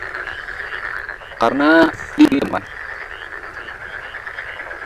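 A large frog croaking as a snake devours it in the wild, two short loud harsh croak bursts rising over a steady background hum, close by, with a brief voice.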